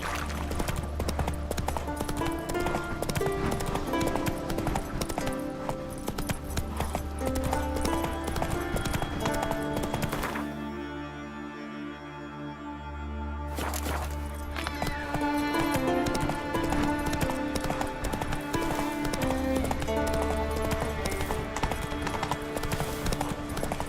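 Horse hooves clip-clop steadily in The Witcher 3 video game, a continuous rhythmic trot heard up close over a dense game soundscape, with a brief lull midway before the hoofbeats return.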